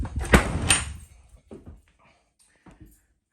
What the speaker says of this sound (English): let's drop the trap door here